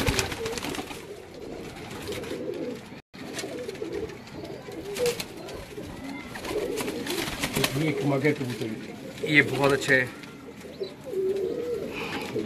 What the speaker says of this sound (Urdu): یہ پیور کمبگر کبوتر